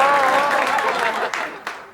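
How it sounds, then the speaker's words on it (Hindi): Stand-up comedy audience clapping briefly, a short burst of applause under a voice that talks over it, with a couple of louder claps before it fades. "आपने ताली बजाई,"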